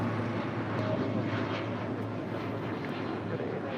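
Jet airliner taking off from runway 25 right at LAX, a steady broad roar heard from a distance, faint and even throughout.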